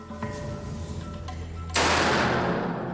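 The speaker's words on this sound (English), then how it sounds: "They'll fire the precious 100-year-old Buckingham rounds remotely, just in case they explode in the rifle." A rifle fires a century-old Buckingham round remotely, one sharp loud report about halfway through that hangs in a dense noisy decay, after a quieter stretch of low hum and faint ticking.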